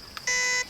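Shot timer buzzer closing a timed rimfire precision rifle stage: one steady electronic tone lasting about a third of a second, preceded by a brief faint blip, clear and fairly close.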